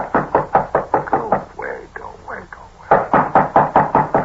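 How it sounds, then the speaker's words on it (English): Loud, sharp knocks on a door come in a quick rhythmic series, pause for about a second, then resume in another rapid burst of raps, close and clear. "Just gonna let him knock."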